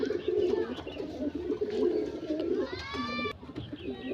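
Punjabi pigeons, a newly arrived male and female, cooing close by in repeated low throaty rolls, with a brief high squeaky call near the end.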